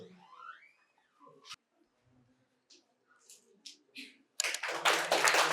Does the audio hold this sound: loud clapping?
yes